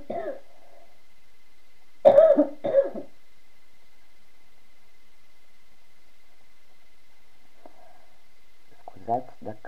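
A person coughs in a short burst of two or three rough hacks near the microphone, with a softer cough or throat noise later, in a quiet room while crocheting.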